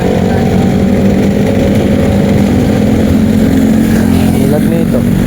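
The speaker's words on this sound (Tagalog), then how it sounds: "Bilis ng mga sasakyan dito, nakakatakot minsan eh." Fast vehicles speeding along a busy street beside a public market, a continuous loud rumble of engines close by, with voices talking over the traffic.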